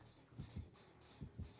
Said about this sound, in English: I can hear that heart beating. How you know the killer's near.